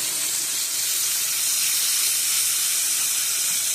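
Beef sears for a pot roast in a hot pan, producing a loud, unbroken hiss of sizzling fat and steam that holds steady from start to finish without any talking.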